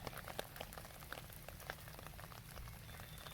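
Rain falls outdoors over pebbles and clover, a close, continuous patter of drops with scattered sharper ticks throughout, alone without talk.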